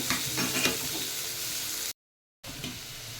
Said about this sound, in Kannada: ಸಾಸಿವೆ ಸಿಡಿದ ಮೇಲೆ ಈರುಳ್ಳಿ ಹಾಕಿ. ಈರುಳ್ಳಿ ಜಾಸ್ತಿ ಫ್ರೈ ಆಗಬೇಕಂತಿಲ್ಲ, ಸ್ವಲ್ಪ ಹೊತ್ತು ಫ್ರೈ ಆದರೆ ಸಾಕು.